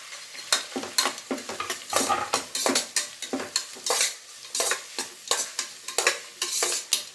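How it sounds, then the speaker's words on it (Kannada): Three chopped onions frying in oil in a pan for capsicum rice, with crisp sizzling under frequent, uneven scrapes and stirs of a spatula, close and clear, with no one talking. "ಈರುಳ್ಳಿ ಚೆನ್ನಾಗಿ ಫ್ರೈ ಆಗಲಿ."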